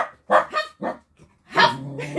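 A dog gives a few short, close barks, and a person answers with a barking imitation of their own.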